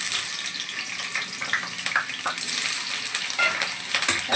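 Potatoes frying in hot oil for vegetable biryani, a bright continuous sizzle and crackle with irregular spitting pops, close and fairly loud, no speech.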